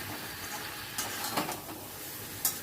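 Onion and capsicum curry frying and sizzling in a pan while being stirred, with a steady soft hiss and a few scraping stir strokes, close and moderately quiet.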